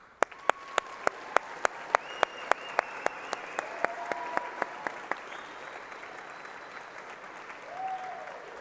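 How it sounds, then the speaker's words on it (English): Convention audience applauding the State Alumni Council, a broad wash of crowd clapping with regular sharp slaps near the microphone that thin out, fading toward the end with a faint voice rising. "Let's give the State Alumni Council a huge round of applause."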